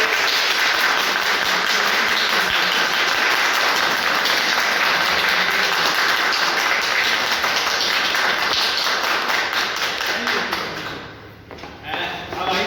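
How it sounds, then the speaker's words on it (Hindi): A large crowd at a meeting claps loudly and continuously, a dense wash of applause that fades and thins out near the end. "एक बार जोरदार तालियां बजाएंगे"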